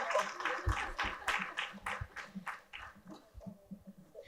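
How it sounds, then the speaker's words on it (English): Audience applause for speakers at the close of a mentorship talk: a patter of hand claps that fades over several seconds, moderately quiet and a little distant in a hall. "Request all of you to give them a kind applause once again."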